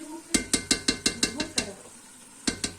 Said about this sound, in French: On va touiller le mélange.